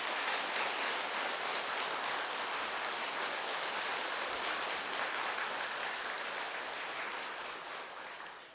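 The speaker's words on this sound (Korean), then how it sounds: "스님께 그 기쁨의 박수를 한번 보내주십시오" An audience at a Buddhist dharma talk applauds for a monk, a steady, dense patter of many hands clapping that holds evenly for several seconds, then thins out at the end.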